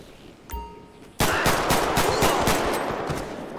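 Automatic gunfire in GTA 5, fired at a man called Buddy: one early shot, then a loud, rapid, sustained burst of evenly spaced shots close by.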